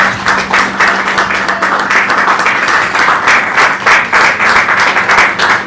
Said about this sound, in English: Now, a big round of applause.